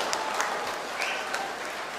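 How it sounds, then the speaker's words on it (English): Applause from proud parents in a hall at a medical college convocation ceremony: steady crowd clapping from many hands, even and moderately loud throughout, with no speech on top. "I want all the proud parents to clap for their son and daughter."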